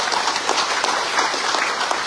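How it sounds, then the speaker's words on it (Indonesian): Audience at a Parti Warisan Sabah rally in Tungku, Lahad Datu, applauding for the party president, a loud, dense burst of clapping that fills the whole clip without any voices. "Beri tepukan kepada beliau."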